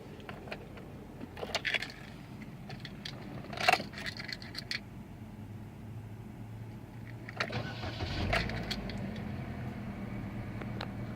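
A 2010 Chevrolet Cobalt sedan is started with a key: faint key jingles and clicks are followed around eight seconds in by the engine cranking and catching, then settling into a steady, moderately close idle. No one speaks.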